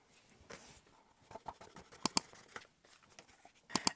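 Scissors snipping and rustling through a sheet of craft foam being trimmed to size, with soft irregular cuts and a couple of sharper crisp snips, quiet and close.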